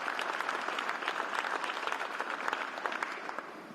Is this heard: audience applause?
yes